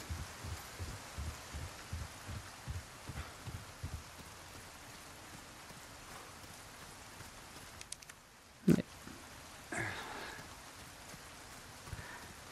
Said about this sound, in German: Ist das normal, dass das regnet?